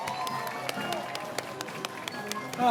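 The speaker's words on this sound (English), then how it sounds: "Let's give them a round of applause" A crowd gives a round of applause at an evening parade of lights, scattered claps over a busy background with band-like tonal hum, fairly distant and moderate, with voices mixed in.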